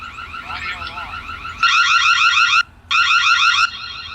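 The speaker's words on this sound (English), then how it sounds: "So the audio alarm." Built-in audio alarm siren of a Reolink dual lens PoE security camera, a tinny electronic warbling wail that sounds in repeated blasts with a brief gap, moderately loud and heard through a small speaker.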